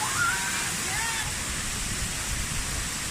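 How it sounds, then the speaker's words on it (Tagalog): Kanawan Falls in Calayan pours with a constant broadband rush of falling water, steady and even from start to finish and heard on its own. "that is the famous Kanawan Falls"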